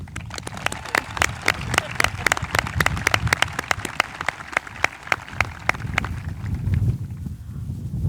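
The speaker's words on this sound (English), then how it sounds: "Can we please give a round of applause for the next principal of Cary-Grove High School, Mrs. Saufert?" Applause at a high school graduation ceremony, a run of distinct rhythmic claps echoing in a large space, trailing off into crowd murmur near the end.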